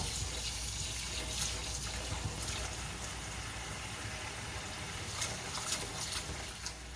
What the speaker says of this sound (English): You want to rinse the quinoa to remove the natural coating on the seeds that can make it taste a little bitter or soapy.